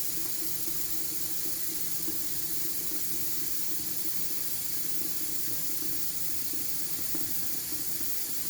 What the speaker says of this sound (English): I'm going to put my water in my canner.